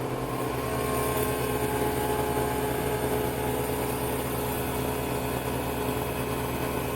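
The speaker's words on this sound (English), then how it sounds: "we should get a pump kicking on here in a second" Harvest Right Version 6 freeze dryer vacuum pump running with a steady, loud, continuous mechanical hum and drone that holds unchanged throughout, with no voices.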